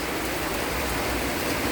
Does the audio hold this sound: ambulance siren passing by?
no